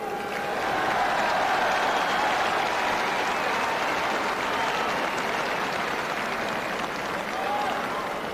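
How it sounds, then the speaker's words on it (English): A large stadium crowd applauds the Cork and Galway hurling teams after the 1990 All-Ireland final, a broad, steady roar of clapping that fills the whole stretch at moderate level, with faint voices mixed in. "both teams, Cork and Galway, really deserve a tremendous round of applause here today"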